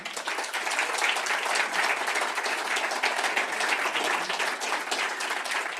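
A general assembly audience claps steadily for a former federation president, the dense applause continuing evenly from start to finish.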